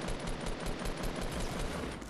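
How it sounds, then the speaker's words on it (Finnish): Rapid gunfire crackles in a Fortnite match, a dense, continuous burst of fast, evenly spaced shots at moderate loudness for about two seconds. "sivulta ammutaan"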